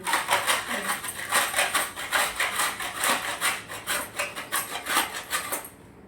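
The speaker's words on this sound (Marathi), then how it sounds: "तोपर्यंत हे सर्व काही मी खोबरं किसून घेते" Coconut being grated by hand in a kitchen while spices are prepared: steady rhythmic scraping strokes, several per second, close and fairly loud.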